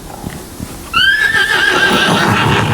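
A horse whinnies loudly in a video game, a single rising-and-falling neigh that starts about a second in and rings out over steady game ambience, with faint hoof clops in the background.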